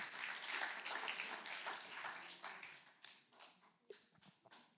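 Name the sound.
congregation applause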